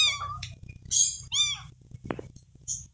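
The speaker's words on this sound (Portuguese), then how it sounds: "Gatinho tão bonitinho, ó." Several small kittens, abandoned and rescued in a box, give high, thin meows in quick succession at close range on a rural property, with a voice speaking softly between them.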